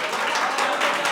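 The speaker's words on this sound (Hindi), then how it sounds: "तो ये रिएक्शन पे तालियां पूरे न्यूज रूम में बज गई हैं।" A newsroom full of people breaks into steady, dense clapping, a brief continuous burst of applause with a faint voice in the background.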